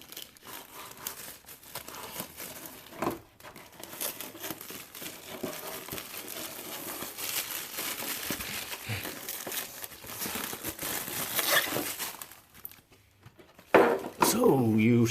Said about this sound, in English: All you do is just find a corner and start peeling